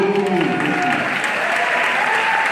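Applause from a gathered audience: steady, dense clapping, loud and close, continuing without a break.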